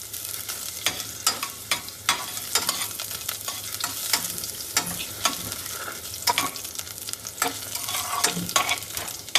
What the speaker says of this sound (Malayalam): നീളത്തിൽ അരിഞ്ഞു വെച്ച ഇഞ്ചി ഇട്ടു.